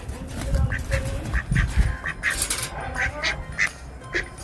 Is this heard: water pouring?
no